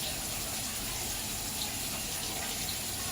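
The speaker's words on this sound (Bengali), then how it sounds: "এই যে মটরগুলো এখন আমি এখান থেকে জল থেকে ছাড়িয়ে নিচ্ছি" Soaked peas being scooped out of their soaking water for a peas-and-paneer dish, a soft continuous watery trickle and sloshing close by, with no talk.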